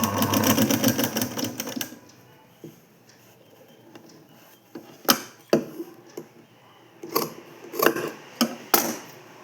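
Sewing machine stitching cloth, a fast loud mechanical rattle for about two seconds, then quieter scattered clicks and knocks as the fabric is handled.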